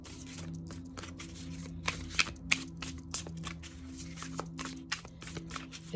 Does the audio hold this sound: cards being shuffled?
yes